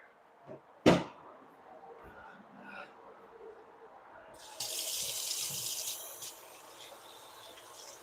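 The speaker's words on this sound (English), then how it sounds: "Wash my hands." Kitchen sink tap turned on for handwashing, a soft steady stream of running water that starts partway through after a sharp clunk and a few quiet handling noises.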